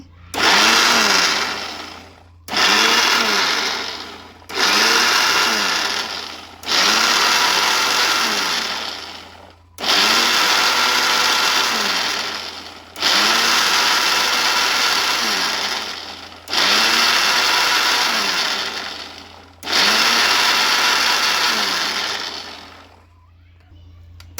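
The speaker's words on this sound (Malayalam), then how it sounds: "എല്ലാം നമ്മൾ മിക്സിയിലാക്കി അപ്പോൾ ഇനി നമുക്കിത് അരച്ചെടുക്കാം" A kitchen mixer grinder blends mayonnaise ingredients in a small jar in about nine loud, close bursts of a few seconds each, the motor whining up and then fading between short pauses.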